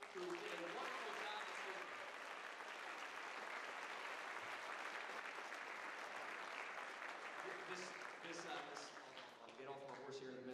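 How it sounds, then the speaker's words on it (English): Sustained audience applause at a Christian school Christmas program fills the hall for young performers, steady and dense throughout, fading slightly near the end with faint voices emerging. "One more good round of applause for all these young people who did a wonderful job."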